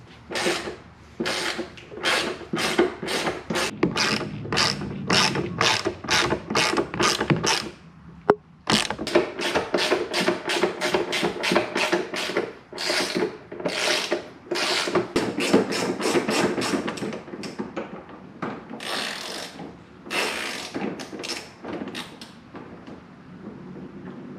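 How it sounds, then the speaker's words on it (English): A ratchet works 13mm screws out of the tailgate of a 2-door Jeep JL, giving long runs of rapid clicking bursts with creaks and metallic clanks, close and steady for most of the stretch. "we're going to take out these 8 13mm screws right here, right there, and that's going to help us get this bad boy off"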